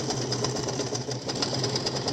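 A sewing machine with a size 14 needle stitches through three layers of soft fabric for a slipper boot, a steady, rapid mechanical whir running close and continuous.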